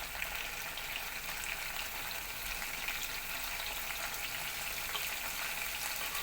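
Cumin seeds and chopped green chilies crackle in hot oil for a curry, giving a steady, even hiss of sizzling that runs through the whole stretch with no voices.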